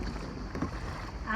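A kayak paddled through the windy calanque of En-Vau, with wind buffeting and soft water swishes forming a continuous, fairly quiet wash.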